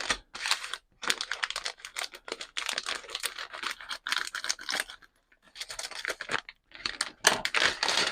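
Snips and sharp clicks of plastic Star Wars Millennium Falcon model parts being cut from their sprues, in short busy bursts separated by brief pauses, close and fairly quiet, with no talking.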